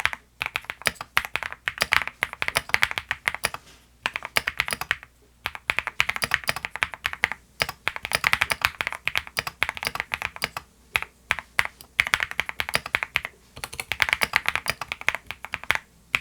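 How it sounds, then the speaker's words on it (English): Keys clack in quick bursts on a KeysMe Mars 3 mechanical keyboard connected over 2.4 GHz wireless, with brief pauses between runs of typing and no talking. "let's go ahead and do a quick typing test"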